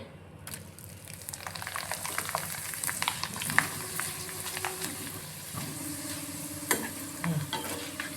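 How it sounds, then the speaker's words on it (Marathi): Thin homemade potato wafers fry in hot oil in a home kitchen, a soft continuous sizzle and hiss broken by light stirring scrapes and occasional louder bubbling bursts. "आता वेफर तळते."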